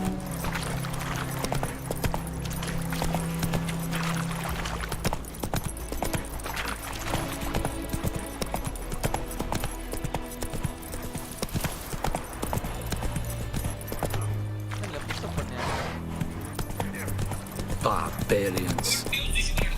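Geralt's horse Roach trots in The Witcher 3: Wild Hunt, a steady run of hoof clip-clops against dense game music and ambience, with voices in the mix.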